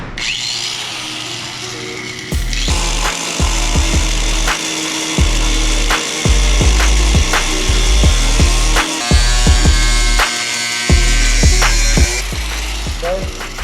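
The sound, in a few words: cutting wheel cutting rusted metal on Nissan 300ZX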